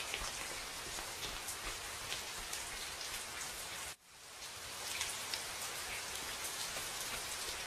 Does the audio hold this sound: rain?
yes